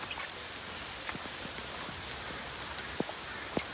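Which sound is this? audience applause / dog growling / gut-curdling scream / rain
rain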